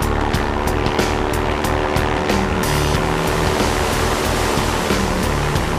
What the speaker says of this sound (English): As the plane hits the lake, Jim must immediately throttle up the engine